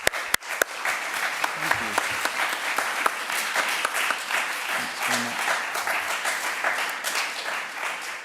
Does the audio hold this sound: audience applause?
yes